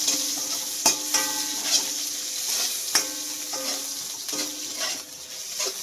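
Chopped onion sizzling in a hot pan for a Filipino milkfish soup dish, with a steady frying hiss broken by several sharp scrapes and clinks of a spatula stirring against the pan.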